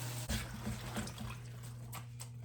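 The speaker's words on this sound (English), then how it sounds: "I'm just going to start dumping these in the sink." Greens for cooking are dumped into a sink of water, giving a few soft splashes and sloshes over a steady low hum, with quieter trickling afterward.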